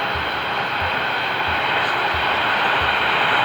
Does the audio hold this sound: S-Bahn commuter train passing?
yes